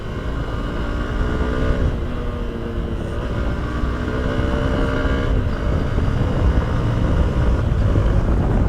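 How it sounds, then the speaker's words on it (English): A Hero Xpulse 200 4V motorcycle rides along a road, its engine a steady, loud drone with a continuous broadband rumble and faint shifting tonal whine throughout. "Let me saddle with this motorcycle."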